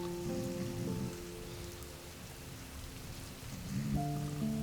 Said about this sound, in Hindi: बारिश बहुत तेज होने लगी।